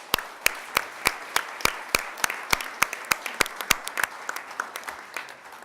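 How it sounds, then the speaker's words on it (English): Rhythmic, evenly spaced clapping from the audience at an oil spill response forum panel, sharp regular beats over a light bed of scattered applause, fading toward the end. "they deserve another round of applause"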